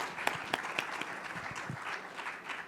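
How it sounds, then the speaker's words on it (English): Guests at a finance awards ceremony give a round of applause, heard as a soft, steady patter of clapping with a few sharper individual claps near the start. "a big round of applause."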